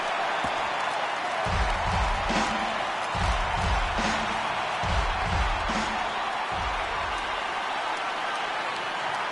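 A baseball stadium crowd of over 39,000 rises to its feet, a steady loud roar of cheering and applause with rhythmic low thumps, continuous throughout with no clear speech.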